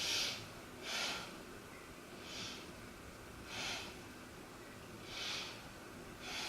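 Slow, rhythmic breaths through the nose during a yoga stretch, soft airy puffs repeating about every second and a half, faint and close with quiet pauses between.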